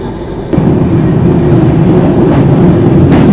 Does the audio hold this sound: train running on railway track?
yes